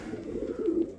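A Sialkoti pigeon gives a short, close, low cooing call, clear and alone for about a second.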